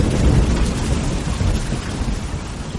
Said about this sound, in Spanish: La lluvia repiqueteaba sobre el suelo